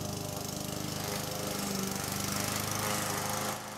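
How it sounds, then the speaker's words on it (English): A lawn mower engine runs steadily nearby in a yard, a loud continuous drone with a rough mechanical buzz and no talk, dropping slightly in level at the very end. "I caught up with him while he was mowing his lawn."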